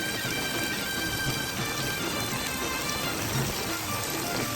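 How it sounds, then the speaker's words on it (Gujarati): Heavy rain, falling for an hour with wind, pours steadily over village fields, a continuous dense patter and hiss with a faint high electrical whine underneath and no voices. "જબરજસ્ત વરસાદ આવી રહ્યો તમે જોઈ શકો મારી પાછળ"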